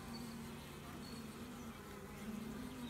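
Honey bees swarm around a hive where they are building comb over capped brood, producing a constant, droning buzz with a steady hum throughout and no voices.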